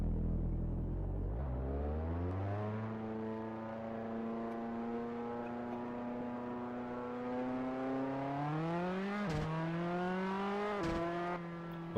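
Race car engine in Assetto Corsa at Knockhill climbs steadily through the revs, with rising harmonic whine, brief dips at gear changes near the end, heard from the cockpit without talking.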